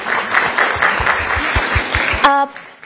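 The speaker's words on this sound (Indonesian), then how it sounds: "Berikan tepuk tangan dulu." A seated audience applauds steadily in a room, a continuous close wash of clapping with a few low thumps, ending abruptly in a brief voiced tone.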